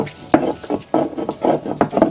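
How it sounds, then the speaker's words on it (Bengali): Lau (bottle gourd) leaves, lightly fried with salt and turmeric, ground on a stone sil slab: rhythmic scraping and grinding strokes, about five rough passes with soft knocks, close and moderately loud with no talking. "এবার শিলে বেটে নেব।"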